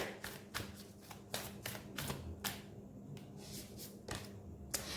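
Tarot cards shuffled and drawn from a deck during a reading, a run of crisp papery flicks and snaps in quick irregular bursts, close and soft with no voice.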